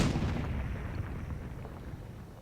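Heavy artillery piece firing in the wargame Graviteam Tactics: Mius Front, a loud booming blast at the start that rumbles and decays over a couple of seconds with no other sounds.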